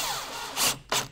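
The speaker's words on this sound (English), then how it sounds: "Now it's just a matter of screwing our membrane in." Roofing membrane and plates are screwed into a wood deck, two quick whirring bursts of a power driver close by over a steady background hum.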